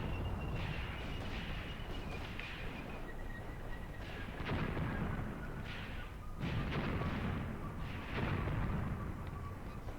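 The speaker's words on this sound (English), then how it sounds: "I told my heavy weapons, or at least the machine guns, to open up on the enemy infantry" Machine guns fire on enemy infantry in the video game Graviteam Tactics, sounding as dense, continuous rumbling gunfire and booms, with repeated heavier bursts over a steady roar of battle.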